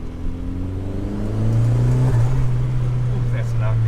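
A VW Golf Mk2 with a 1.8T turbo engine accelerating, its rising engine drone growing louder and holding strong from inside the car, with brief talk over it.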